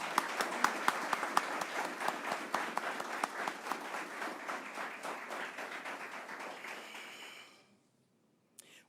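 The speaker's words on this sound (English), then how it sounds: "Can we applaud them all?" An audience at a workforce development center opening applauds steadily for several seconds, a dense patter of clapping with a few sharper individual claps, fading out near the end before one last clap.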